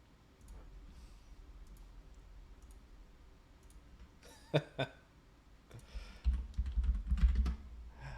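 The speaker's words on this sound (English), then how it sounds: "I couldn't tell if that was Steel Legionnaire or my wife typing that message." Keys on a computer keyboard clatter in quick, uneven bursts, faint at first and then louder clicking toward the end, with no talking.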